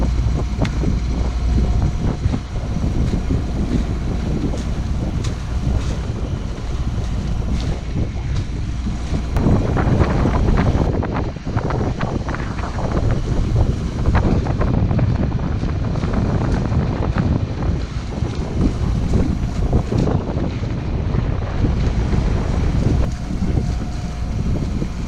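A sailboat under way in the entrance to Sturgeon Bay, Lake Michigan, with strong wind buffeting the microphone and water rushing against the hull, a loud continuous roar throughout.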